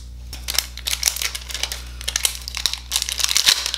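A plastic seal being torn off a fragrance oil bottle, close crinkling and crackling bursts in an irregular rhythm over a low steady hum.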